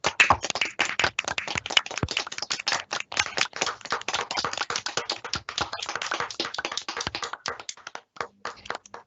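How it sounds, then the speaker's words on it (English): A conference audience claps at the closing session, a steady patter of many hands that continues for several seconds, close and even, with no talk over it. "So let's have a big clap for the conference, everybody, and everyone involved in making it happen."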